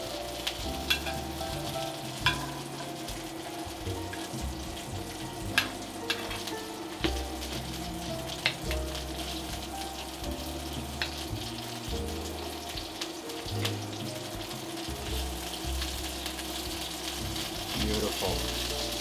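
Heart of palm sizzles and fries in a tilted pan while being basted, a close, continuous crackle broken by repeated scraping and spooning sounds.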